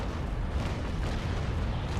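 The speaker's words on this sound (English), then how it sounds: "Some cannonballs bouncing," Naval cannon fire in the Naval Action sailing-ship battle game, heard as a dense continuous rumble of booming shots and impacts layered together without pause, loud and close throughout.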